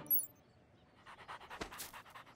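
A cartoon dog pants in quick rhythmic breaths, fairly close and moderately loud, starting after a short pause and continuing to the end without talk.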